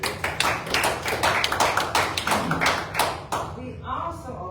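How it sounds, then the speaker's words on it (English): People at a city commission meeting applaud in a brief round of individually distinct claps that thin out and fade toward the end, fairly close, with a little talk mixed in. "So let's applaud him."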